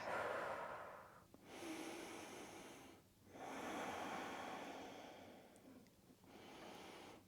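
Slow, deep breathing during a yoga stretch, long airy inhales and exhales in a relaxed rhythm, close and quiet with short pauses between breaths.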